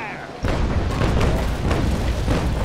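Carronades fire aboard the frigate HMS Pandora in Naval Action, an abrupt heavy boom followed by a run of rumbling, crackling blasts close by, with a voice briefly under the noise.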